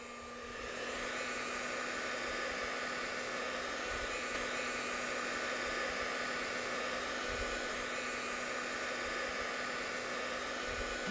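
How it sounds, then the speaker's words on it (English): A hair dryer switches on and blows a steady, loud jet of air to hold a ping pong ball aloft, a constant whooshing roar with a faint motor hum running alone throughout. "Let's have a look at a ping pong ball being supported by a jet of air, again supplied by our hair dryer."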